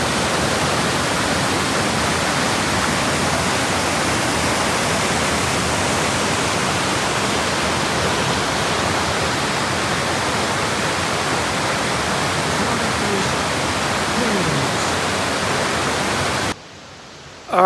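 Loud, steady roar of a waterfall along the Fiery Gizzard Trail, a dense unbroken rush of falling water that fills the whole scene without pause before cutting off abruptly near the end.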